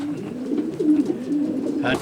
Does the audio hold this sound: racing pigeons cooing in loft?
yes